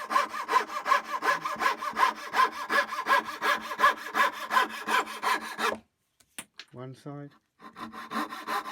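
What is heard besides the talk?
coping saw cutting a curve in wood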